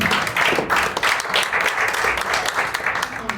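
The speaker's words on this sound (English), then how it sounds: "Give him a round of applause." Audience at an education teacher summit reception in Jamaica gives a round of applause, a dense steady patter of many hands clapping at close range with some voices mixed in.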